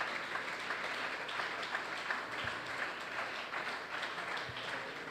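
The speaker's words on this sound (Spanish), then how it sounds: "Dele ese aplauso fuerte al Señor Jesús" A church congregation applauding, a sustained, fairly even patter of many hands clapping at moderate distance, with no speech over it.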